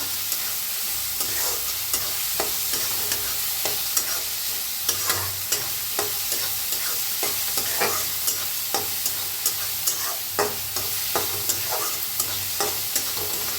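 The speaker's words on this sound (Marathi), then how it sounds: "छान असं भाजून घेऊया कांद्याला. कांदा छान भाजायला आलाय." Onion fries in a pan with curry leaves and asafoetida, a continuous close sizzle punctuated by regular scraping stirs of a spatula, with no voices.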